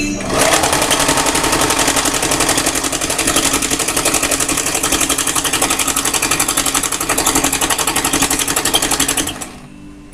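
A sewing machine stitching fabric pieces together, a loud, fast and even mechanical chatter running steadily for several seconds before it stops abruptly.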